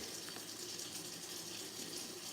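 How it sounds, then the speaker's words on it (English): Hot water runs steadily from a tap in an even, hissing stream, quiet and unbroken. "Let's go ahead and turn the hot water on."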